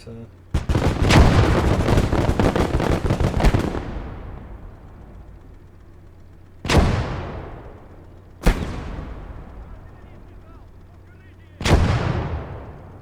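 Mortar rounds fire in the Call to Arms Gate of Hell battle game. A heavy roar of sustained booms gives way to three separate loud blasts spaced a few seconds apart, each trailing off in a long rumbling decay.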